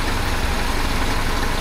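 Carbureted BMW 2002 engine idling steadily at about 1,000 RPM, a close, even, continuous rumble with no talking.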